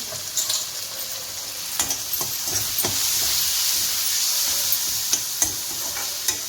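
Steady crackling sizzle of spices frying in hot oil, with occasional louder pops and clinks of a spoon stirring, close and continuous.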